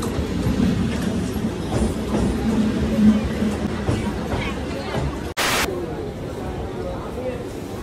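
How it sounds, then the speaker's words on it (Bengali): A train pulling into Sealdah station, a steady rumbling roar with rattling carriage noise and a crowd's babble of voices throughout, interrupted by a brief sharp click near the end. "সাতটা 46 এই ঢুকলো আমাদের ট্রেন শিয়ালদা স্টেশনে।"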